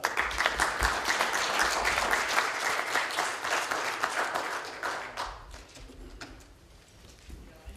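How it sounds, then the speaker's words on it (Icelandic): A crowd claps warmly and steadily, then the applause thins out and fades toward the end. "við bara gefum ykkur öllum gott klapp"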